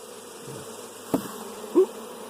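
Honey bees from a small, newly started hive hum in a continuous low buzz during a hive inspection, with a couple of brief louder swells as individual bees pass close.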